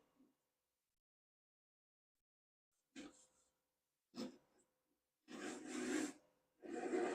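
A hand crosscut saw cuts across wood on the push stroke: a few short, close, rasping strokes separated by pauses, with the last two strokes longer and louder, and no talking.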